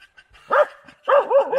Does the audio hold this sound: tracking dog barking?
yes